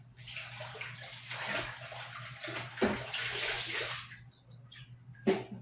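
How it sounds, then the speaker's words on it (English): Water pours and splashes out of a salad spinner while rinsing freshly harvested collard greens, a steady sloshing stream lasting several seconds, with a brief gurgle and a final splash near the end. "Pour that water out."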